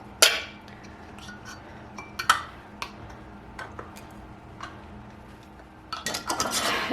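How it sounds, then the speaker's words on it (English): Washed metal jar lids clinking and rattling inside a glass jar, a series of light scattered clicks and taps with a busier jangle near the end, close and without talk. "I've got these lids in this jar that I have washed in the past and put in this jar."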